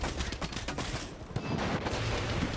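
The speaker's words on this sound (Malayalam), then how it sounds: "ആരോ ആരോ വെടി വെക്കുന്നുണ്ട് കേട്ടോ" Rapid gunfire crackles in bursts over a dense, noisy background of booms and rumble during a ship liberation mission in the video game Far Cry 6.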